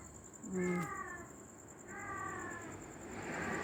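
A cat meows twice at a distance, in two drawn-out calls a second apart. A steady high hum and outdoor background noise run underneath.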